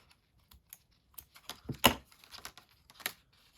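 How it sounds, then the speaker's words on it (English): Scissors snipping through a yarn loop while a bookmark is made: a few soft, close clicks and crisp cuts in a quiet room, with small rustles between them. "now I'm going to cut through this loop"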